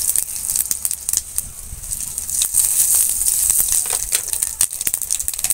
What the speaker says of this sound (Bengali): এখান থেকে দিয়ে দেবো গোটা জিরে আর কালো জিরে ফোড়নের জন্য